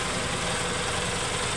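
An Isuzu mini dump truck engine idles steadily and close by, a loud, even low rumble with a constant mechanical drone and no breaks.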